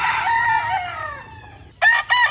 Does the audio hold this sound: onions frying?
no